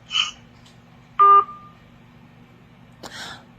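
A phone call cuts off with one short electronic beep, clear and close, set between faint rustles and a steady low hum, with no talking.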